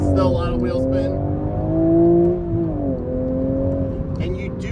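Toyota GR Supra with a manual gearbox launching from around 2,000 rpm in sport mode, its engine droning loudly and steadily rising under a voice talking over it.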